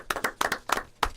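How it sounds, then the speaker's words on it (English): A small group claps in a live radio studio in the Cayman Islands during an in-studio election debate, several short bursts of hand claps close to the microphone, with brief gaps between them. "I think you can give yourself a round of applause as well."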